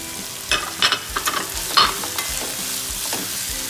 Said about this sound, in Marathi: आणि ते मस्त असं परतून घेणार आहोत.